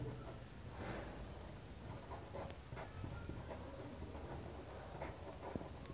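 A pen writes on paper up close in a math lesson, giving a soft continuous scratching with short strokes over a faint background hiss.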